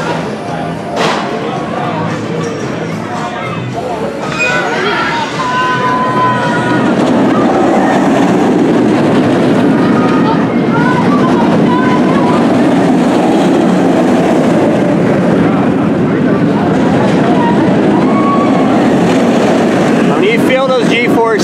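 A roller coaster train at Six Flags Great Adventure in Jackson, New Jersey runs along its track with a loud, steady rumble and clatter that builds and holds close by, while people talk over it.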